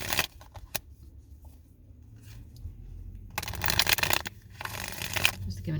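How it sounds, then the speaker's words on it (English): A deck of tarot cards given a thorough shuffle, heard as soft rustling early on, a quieter stretch, then a denser, louder wash of card noise toward the end, with faint background sound running under it. "Just giving a good thorough shuffle here."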